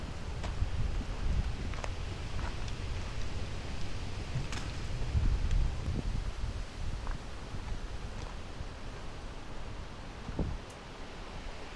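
Wind gusting across the microphone on a mountain trail at Picacho Peak State Park, a steady low rumbling buffet with faint rustles throughout, no talk.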